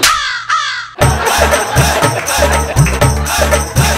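A crow caws twice, harsh and close, then loud rhythmic music with a steady beat abruptly takes over.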